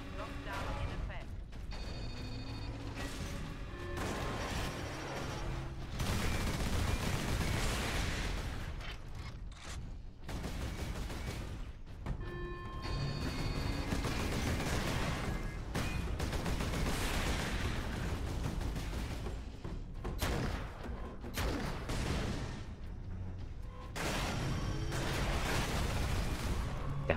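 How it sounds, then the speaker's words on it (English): Explosions and gunfire from the Warhammer 40K Space Marine video game, a dense, continuous roar of blasts and weapon fire with mechanical clanks running steadily throughout, loud and busy from start to finish. "I got hit by the explosion behind me and it pushed me out of cover"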